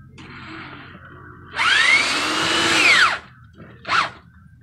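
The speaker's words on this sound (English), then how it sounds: "Gotta screw them screws in back on the fascia." Power drill whirring as it drives screws into a fascia board during soffit work, one long burst of about a second and a half that ramps up and winds down, followed by a short second burst, close and loud over faint background noise.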